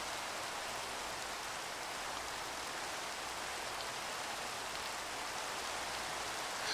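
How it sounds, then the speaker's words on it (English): Steady, even rainfall in Minecraft, a constant soft hiss with no breaks and nothing else over it. "And it's raining on us."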